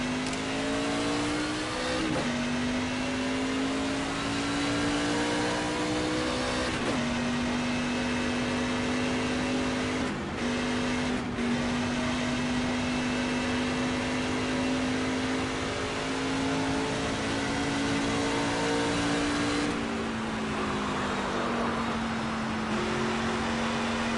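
A NASCAR Craftsman Truck Series race truck drones at high revs in a NASCAR 25 qualifying run, a loud sustained engine tone that lifts and settles through several gear shifts and throttle lifts, with no talking.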